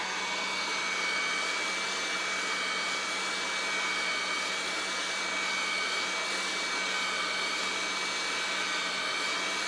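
A hot air tool blows a steady, loud broadband rush of air onto the circuit board of a Harman Kardon HK3270 receiver, continuous and unbroken throughout.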